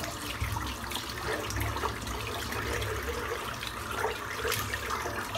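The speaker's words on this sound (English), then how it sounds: "Just giving the soap a good rinse out." A bar of soap and a brush rinsed under running tap water, a continuous close splashing and trickling with shifting spatters as items move through the stream, no voices.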